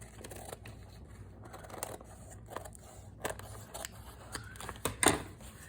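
Scissors trimming paper pages for a double file folder junk journal, a few soft snips and rustles close by, with a sharper cut near the end; no talking.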